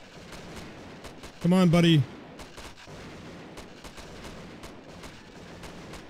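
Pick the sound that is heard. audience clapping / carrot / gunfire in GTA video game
gunfire in GTA video game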